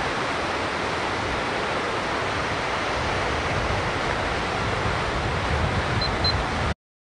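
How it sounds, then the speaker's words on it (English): Fast-flowing water rushes loudly and continuously beside a road during a long marathon training run, a dense roar that cuts out abruptly near the end. "They got the water ripping like crazy."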